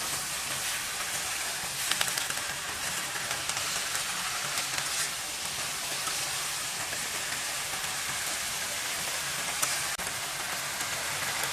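Malabar spinach seeds go into a hot pan with shrimp, giving a loud, steady, broadband sizzle that hisses without a break throughout, with no talking over it.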